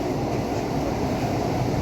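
Kolkata East West express metro train running underground into Mahakaran station, a dense continuous low rumble and rolling rail noise, loud and close, with no talk.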